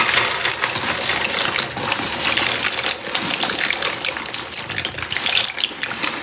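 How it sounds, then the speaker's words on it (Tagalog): Dry pasta, about 250 grams, goes into a pot of boiling water with a little oil. Close, continuous clattering and splashing mix with bubbling water for several seconds, with no talking. "Nasa boiling point na yung ating tubig mga kaibigan."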